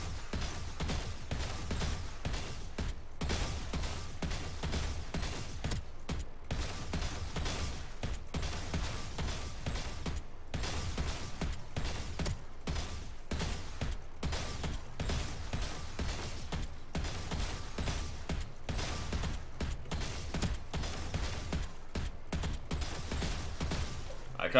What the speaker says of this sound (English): we're going to shoot one or two bullets and then move to the right, one or two bullets, move to the left